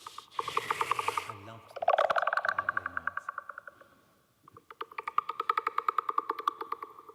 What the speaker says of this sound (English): So that's the sound of a beluga whale messed about with a bit.